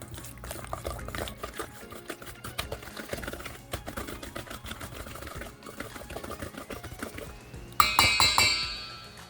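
Mashed bananas and eggs being mixed in a bowl for banana bread, heard as busy, continuous scraping and clinking of a utensil against the bowl, close and fairly loud, growing sharper and brighter near the end.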